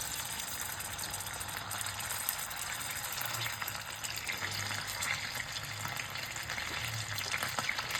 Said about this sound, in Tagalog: Piprituhin muna pala natin yung tenga guys.